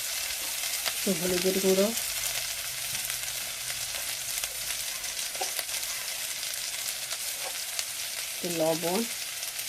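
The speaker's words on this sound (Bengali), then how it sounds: "মশলাটা কষে নেব" Spice paste with turmeric and salt fries in a pan with a steady, soft sizzle, while a voice speaks briefly near the start and again near the end.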